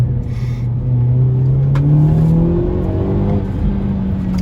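A 2023 Hyundai Elantra N with manual gearbox accelerating hard in second gear, its engine note rising steadily in pitch with a loud, close, continuous roar throughout.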